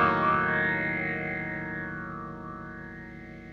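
Guitar chord through an EQD Interstellar Orbiter pedal with its rate control turned down: one sustained chord slowly fading over a few seconds, carrying a gentle, slow pulsing modulation.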